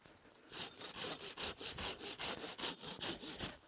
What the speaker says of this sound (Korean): 자, 톱으로 이 나무를 이렇게